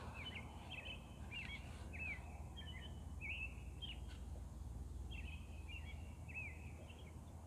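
Small birds chirp in the distance around an overland ATV campsite, a string of faint, repeated high tweets heard over a low, steady outdoor rumble.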